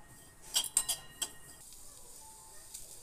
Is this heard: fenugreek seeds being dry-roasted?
yes